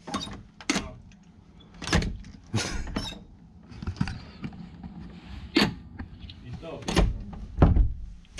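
A hotel room door being forced without opening: repeated sharp rattles, bangs and clunks of the handle and frame at irregular intervals, close and loud, with people talking in between.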